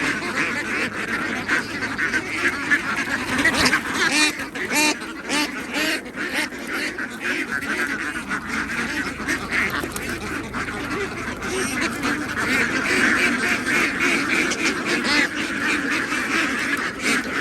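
Dense, continuous quacking and honking from a large crowd of young laying ducks as they are caught and sorted, loud and close throughout with no clear talk.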